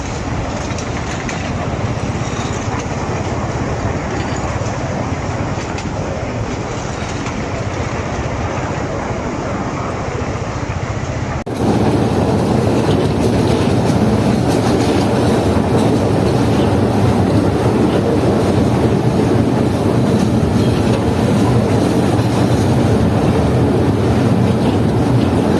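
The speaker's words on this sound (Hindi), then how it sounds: "यहाँ से ट्रेन एक लेफ्ट टर्न लेने वाली है।" A small toy train rolls through Changa Manga forest in Pakistan, a steady loud rumble of wheels and carriages running continuously and close, growing slightly harsher partway through, with faint talk beneath.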